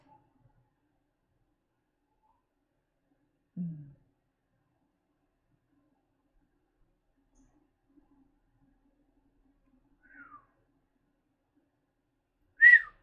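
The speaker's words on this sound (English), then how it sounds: "My whistle needs so much work." A person whistles a few short, isolated notes, each brief and fairly faint, separated by long stretches of silence.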